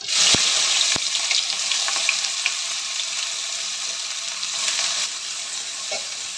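Mustard seeds and sliced onion fry in hot oil in a pan, a steady close sizzle with crackling pops and occasional stirring scrapes throughout, no voices.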